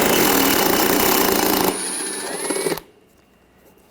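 Power tool loosening a bumper bracket bolt with an 8mm socket on a 2013-2019 Ford Escape, a loud continuous rattling whir for under two seconds, then a quieter winding-down hum before cutting off.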